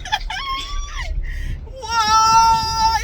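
A goat bleats loudly and close by, several wavering cries in quick succession ending in one long drawn-out bleat.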